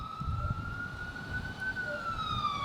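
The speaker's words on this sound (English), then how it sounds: "The timing was very good with the siren" An emergency siren wails steadily from outside, passing at moderate distance beneath a low rumble of street traffic throughout.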